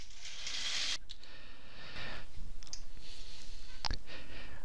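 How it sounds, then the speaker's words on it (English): A computerized quilting machine stitches out a word, producing a steady, close mechanical whir with rapid rhythmic clicking and occasional sharper ticks. There is no talking. "Now it's stitching out this next word."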